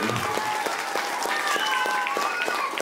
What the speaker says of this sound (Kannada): ಇಂಥ ಒಂದು ಪ್ರತಿಭೆ ನಿಮ್ಮ ಊರಲ್ಲಿ ಇದೆಯಲ್ಲ, ಅದಕ್ಕೆ ದೊಡ್ಡ ಚಪ್ಪಾಳೆ ಬರಬೇಕು